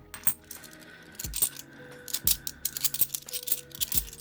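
Common Australian commemorative coins tip out of a roll onto a hard surface, with repeated metallic clinks and jingling clatters in close, busy bursts over a few seconds.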